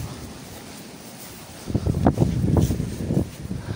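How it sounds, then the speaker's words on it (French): Gusty wind buffets the microphone outdoors at a ruined 1940s farm, a low steady rush that surges into heavier rumbling blasts midway, loud and close, with no voices. "On est désolé pour le vent."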